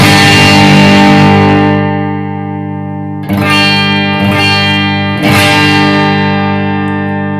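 An electric guitar plays through a tube distortion pedal as the distortion is gradually reduced, three loud sustained chord strikes each ringing out and fading, the last ones slightly cleaner.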